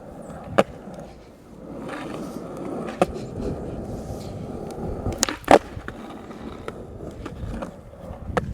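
A skateboard rolls across snowy winter ground toward boxes, with rumbling wheels broken by several sharp clacks and scraping grinds, louder hits clustered near the middle.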